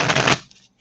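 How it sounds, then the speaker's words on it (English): A fast riffle of tarot cards flutters up close for a split second, then stops with a soft settle. "Oh, the shuffle. Look at that shuffle."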